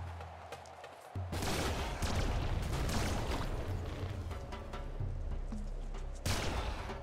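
The hyper launcher weapon fires in the video game Nuclear Throne, a dense, loud barrage of rapid blasts and explosive crackle that starts abruptly after a quieter moment and continues almost without pause.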